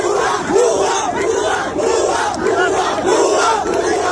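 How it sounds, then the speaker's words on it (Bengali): A large protest crowd chants the slogan "gupto gupto" in a steady, repeating rhythm of loud massed voices, heard as played-back footage and filling the whole stretch without a break. "দেখেন এরা কিরকম গুপ্ত গুপ্ত বলে স্লোগান দিচ্ছে"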